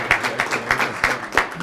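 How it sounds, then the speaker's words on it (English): Clapping at the 2013 St. Paul Neighborhood Honor Roll award ceremony, heard as a small group of sharp, separate hand claps in a loose, uneven rhythm, close and clear, with no voices. "Jerry, oh yeah, clapping."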